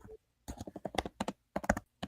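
Someone types on a computer keyboard close by, producing irregular bursts of clattering key clicks separated by short pauses.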